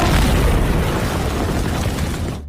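A tank gun fires in a war film: a single huge explosive boom fills the whole clip as a dense, roaring blast that rumbles on and then cuts off abruptly.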